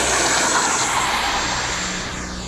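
An F-18 aircraft engine during flight, a loud steady roar with a high whine that slowly fades as it passes.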